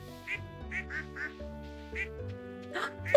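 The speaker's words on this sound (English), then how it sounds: "The duck got the water!" A duck in Stardew Valley quacks in a quick series of short, nasal quacks over soft game music, moderately close and fairly quiet.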